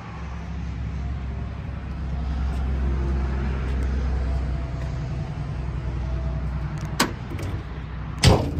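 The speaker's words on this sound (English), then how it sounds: "Shut the door there, shuts easy." Door of a 1956 Chevrolet 3100 pickup truck shutting with a single solid thump near the end, following a low steady rumble of background noise.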